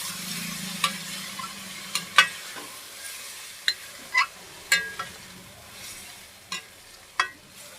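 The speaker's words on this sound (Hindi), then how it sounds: "तो अब इसमें हम ये साग डालेंगे। इसको चला लेंगे अच्छे से।" Mustard greens for saag are stirred in hot oil in a pan, a steady sizzle running throughout while the spoon scrapes and clinks against the metal in irregular taps.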